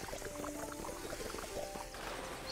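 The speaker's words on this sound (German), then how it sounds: "ich fülle mal eben mein Dings hier auf. Mein Wassertank." A water tank is refilled in a cleaning video game, a faint, steady trickling and pouring of liquid with small bubbling splashes running continuously at low level.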